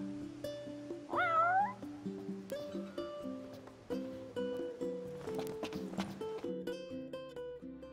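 A cat meows in Final Fantasy XV, with a rising, wavering cry over a game soundtrack of soft melodic notes and occasional footstep-like sounds.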